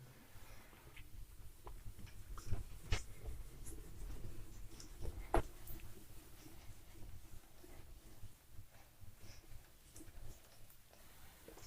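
Chalk or marker scratching across a board in a classroom maths lesson, a string of soft, close taps and strokes in quiet room tone with no talking.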